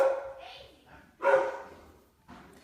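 A dog at home barks in three separate loud bursts, the middle one strongest, close by with a hint of whining between.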